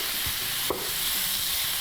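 A quiche mixture with basil being stirred in a pan, giving a steady soft sizzle with a few faint scraping strokes of the utensil and one brief knock near the middle.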